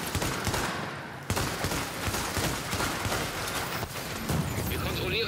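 Turret fire in the shooter The Division during the Last Stand mode, rapid bursts of gunfire and impacts running continuously under a spoken announcer voice.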